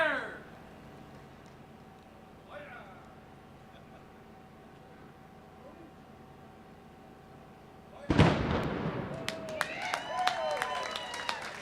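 A ceremonial anvil battery fires at the opening of the Anvil Centre civic building: after a long stretch of quiet crowd ambience, one loud sharp blast booms out, followed by echoing crackles and rumbling reports.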